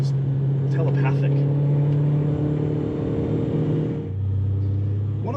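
A 1990 BMW E30 M3 Sport Evolution, 238 horsepower, drives with a steady engine drone from inside the cabin, the pitch dropping near the end as the gear or speed changes, with someone talking over it.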